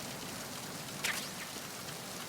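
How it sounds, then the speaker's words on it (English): Steady rain falling in the video game Metal Gear Solid 2, a faint continuous wash with a brief brighter splash or rustle partway through, no talking. "I love that you can hear the rain"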